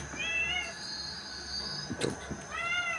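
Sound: cat meowing

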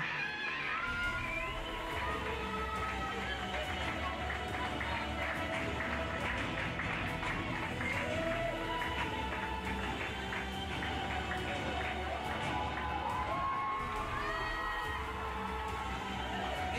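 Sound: audience applauding the podium at award ceremony

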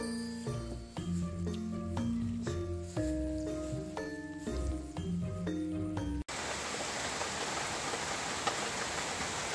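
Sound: rain falling outdoors in a garden

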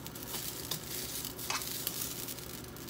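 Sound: yakisoba frying on a pan

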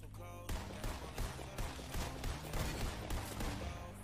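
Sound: gunshots in Fortnite video game

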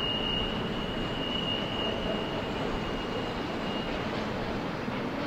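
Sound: freight train on the Tehachapi Loop railroad

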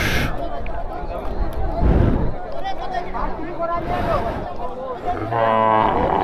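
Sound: cattle lowing at the Garochora cattle market

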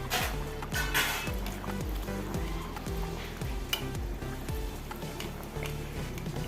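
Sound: sweet potato puri frying in oil

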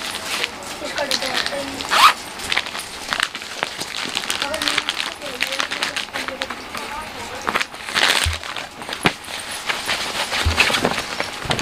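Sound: zipper of a fabric sample bag being opened

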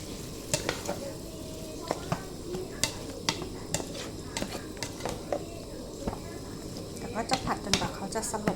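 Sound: stir-frying lasagna filling in a pan

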